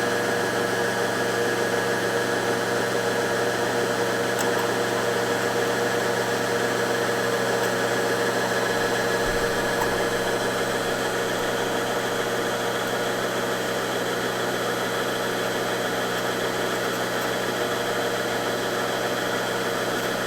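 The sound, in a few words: PE800 embroidery machine winding a bobbin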